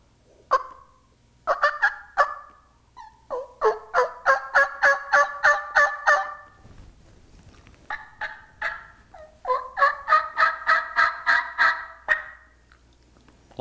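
A mouth call imitates a wild turkey, giving sharp isolated clucks followed by two long runs of rhythmic, raspy yelps, loud and close with no talk.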